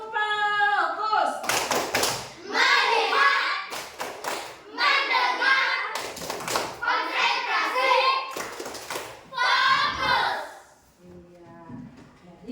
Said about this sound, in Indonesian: Nah, tepuk fokus.